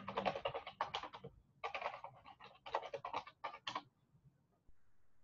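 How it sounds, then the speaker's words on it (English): A password typed on a computer keyboard: quick irregular bursts of close key clicks, pausing briefly and then resuming before trailing off, with no talking. "we're going to put a password in for that"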